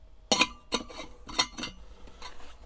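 A Super Sparrow water bottle with a bamboo stopper and small carrying ring is handled, giving several sharp, bright clinks in quick clusters, close and fairly quiet, with no talking.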